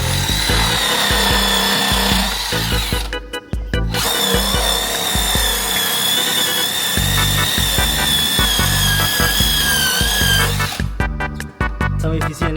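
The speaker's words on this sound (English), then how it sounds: "Now you're gonna get your polish machine. You're just gonna go to town." A polishing machine buffing a 3-piece wheel, a loud close motorized whine that runs steadily with brief pauses and changes in load as the pad presses against the metal.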